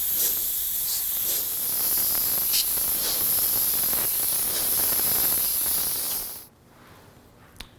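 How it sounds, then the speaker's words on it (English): Airbrush with a 0.35 nozzle spraying unreduced Createx paint straight from the bottle, a steady loud hiss for about six seconds that then cuts off into near quiet, followed by a faint click. "we can see how that sprayed right out of the bottle, no reduction."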